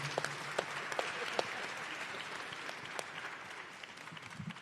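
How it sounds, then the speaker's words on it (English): Applause from a conference audience at the Rainbow PUSH annual conference, a steady, somewhat distant patter of many hands with a few sharper individual claps standing out. "Give him a round of applause."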